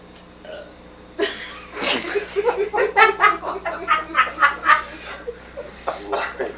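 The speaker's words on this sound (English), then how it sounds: "stop that burping!" A person lets out a series of loud, drawn-out burps, one after another in rapid succession, close and prominent.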